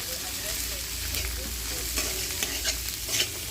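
Chopped vegetables with garlic, ginger and green chilli fry in oil with a soft continuous sizzle and stirring scrapes, fairly quiet, with a few louder clinks near the end.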